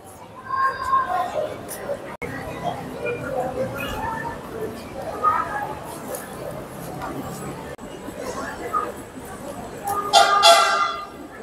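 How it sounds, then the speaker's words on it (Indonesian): A train rumbles in at platform 1 of Tanah Abang station, alongside a busy platform, with a brief horn near the end and people chattering in the background. "ada kereta dari Cina yang tiba di peron 1 stasiun Tanah Abang baru ini"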